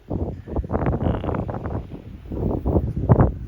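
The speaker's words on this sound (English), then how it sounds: "I am on the beach, and yes, there may be some wind" Wind buffeting a microphone on a beach, a steady low rumbling roar with gusty surges throughout, close and fairly loud.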